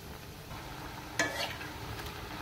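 Lentil fritters (dal bora) frying in hot oil, giving a steady soft sizzle with a brief louder burst of crackle near the middle, close by and with no talk.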